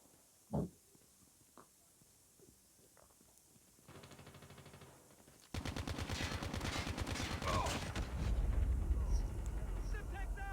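Gunfire from Call of Duty Mobile multiplayer: dense, rapid automatic bursts start midway and keep going loud and continuous, after an earlier stretch of quiet game sounds and a single sharp bang.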